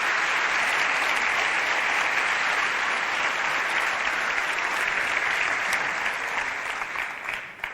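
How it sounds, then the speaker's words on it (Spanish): Sustained applause from a concert audience at an event for the Asturian language, dense and steady throughout before thinning slightly at the very end. "Un aplauso para todos ellos y para todas ellas."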